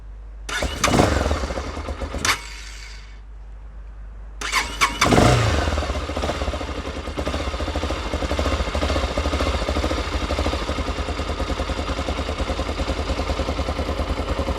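Musstang Challenge GT250 motorcycle cranked up after an oil change: a short burst of starter cranking, a pause, then another crank that catches into a steady, close, loud idle with a fast even pulse.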